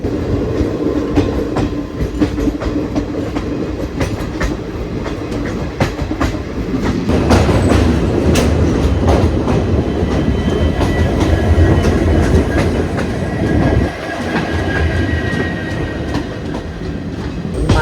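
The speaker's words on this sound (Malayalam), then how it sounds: "മല കയറി വരുന്ന ട്രെയിനൊക്കെ മുന്നിലും ബാക്കിലും ലോക്കോ ഉണ്ടാകും കേട്ടോ" A train climbing a Western Ghats incline rumbles past close by, with locomotives at front and rear, steady heavy clatter of wheels on rails and a deep engine drone, loud and continuous.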